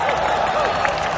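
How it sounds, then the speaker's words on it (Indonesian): An audience claps and applauds in a dense, continuous wash of hand claps that is loud and sustained for the whole short stretch. "Tepuk tangan anjir."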